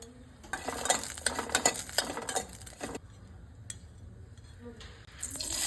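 About ten green chillies fry in a little oil in a pan, cooking for Kadapa karam dosa, with bursts of sizzling and stirring scrapes, clinks of a utensil, and short quieter gaps between strokes.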